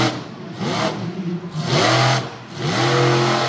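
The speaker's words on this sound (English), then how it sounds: "You hear the howl of the rubber scooting around on the pavement out here." Monster truck tires howling and scrubbing on pavement at an All Star Monster Trucks show in Jennerstown, Pennsylvania, loud and close, in rising waves with engine roar underneath.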